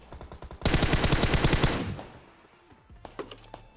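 M4 rifle in PUBG Mobile: a sharp, loud automatic burst of rapid evenly spaced shots lasting about a second and a half, fading out, followed by a few fainter distant cracks.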